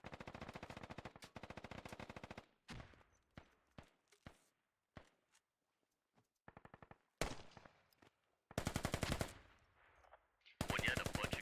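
Bursts of automatic machine gun fire in a military video game operation, with sustained rattling volleys separated by single sharp shots and short gaps, loud and close, with brief radio chatter at times.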